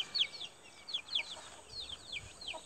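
Free-range village chickens resting in the midday shade on a small farm, giving soft repeated clucks and a few higher chirps in a close, steady murmur.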